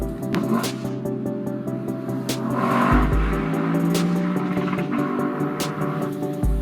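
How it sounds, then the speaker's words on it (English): A 2022 Lexus LC 500 Convertible V8 bouncing off its rev limiter on a drive, heard from the cabin: a sustained high-revving engine drone with steady harmonic tones and a few abrupt cut-outs, fairly loud. "that has got to be one of the most intoxicating rev limiters on sale today"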